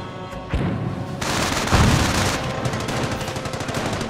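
Gunfire and explosions hit a base in the World War II strategy game Company of Heroes, with sustained loud bursts and booms forming a dense battle din and no talk.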